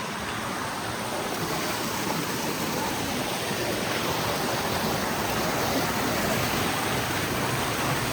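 A steady, dense roar of rushing water fills the scene without pause, like a nearby waterfall.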